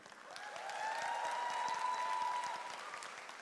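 Commencement audience at Avalon University claps and cheers for the Ohio staff, a full, steady burst of applause that swells after a moment and holds throughout, with a raised tonal cheer or whistle running above it.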